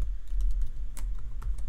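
A password is typed on a computer keyboard, with a quick run of close, crisp key clicks in a quiet room.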